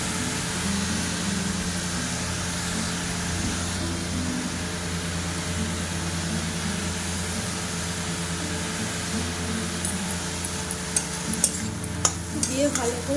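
Leafy greens seasoned with salt and turmeric are stirred in a pan: a steady low sizzle runs throughout, with sharper scraping clinks of the utensil near the end.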